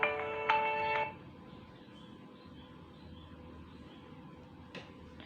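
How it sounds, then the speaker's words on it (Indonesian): A phone rings for an incoming call, giving a short electronic ringtone burst of about a second. Faint room hum follows, with a brief click near the end. "ada telepon masuk"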